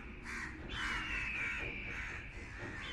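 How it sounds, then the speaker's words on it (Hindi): Crows caw as a sound effect in a horror story, several harsh, raspy calls in close succession over a faint background, with no talking. "खुले आसमान की तेज धूप में चील कौवे मंडराना शुरू हो गए।"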